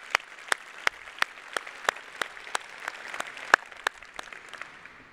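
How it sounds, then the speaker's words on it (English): Sparse applause at a breakfast gathering for the port's annual address, heard as a few distinct, well-spaced claps rather than a full ovation, moderately faint and fairly steady for about five seconds with no one speaking. "Give them applause."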